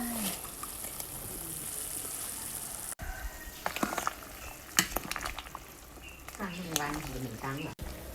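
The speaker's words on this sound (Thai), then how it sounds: "ใส่ผักลงไป" Vegetables are tipped into a pot of simmering Thai chicken soup made with young tamarind leaves, bringing a steady bubbling hiss, then clattering splashes and stirring, with a voice talking over the cooking.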